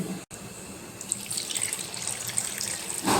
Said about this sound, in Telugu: దీంట్లో కొన్ని వాటర్ పోసుకోవాలి